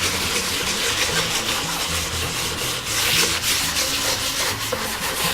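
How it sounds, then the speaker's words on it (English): Wood is sanded by hand in circular motions, a continuous rough scratchy rubbing that pulses with each stroke and sounds close and steady, with no voices. "when do you know that we've done a good job sanding?"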